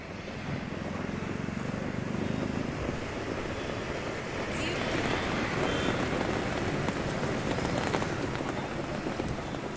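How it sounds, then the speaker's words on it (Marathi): Heavy rain pours down continuously, a dense roaring hiss of drops on surfaces that stays loud and steady throughout. "सुबह से ही मूसलाधार बरसात जारी है"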